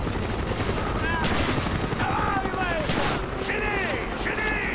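Gunfire from a lever-action rifle in the Call of Duty Black Ops video game, loud sharp shots at an uneven pace mixed into a dense battle soundscape with game effects and voices.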